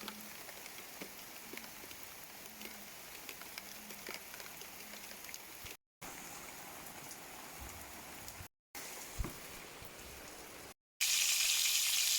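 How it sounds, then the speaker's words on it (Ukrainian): Fish fries in a pan, a continuous crackling sizzle with scattered pops, cut by short silent gaps, and louder and brighter toward the end. "Оля вже смаже рибку"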